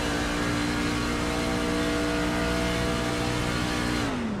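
Race truck engine heard on board at a Pocono Truck Series race, holding a steady loud drone before the revs audibly drop near the end as the driver lifts and coasts to save fuel.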